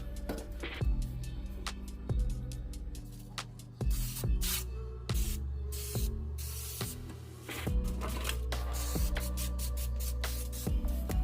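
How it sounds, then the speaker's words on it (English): Repeated short hissing bursts of cooking spray onto a baking pan, several blasts in an uneven rhythm, close up with small knocks between them. "You wanna make sure that you spray your pan really good."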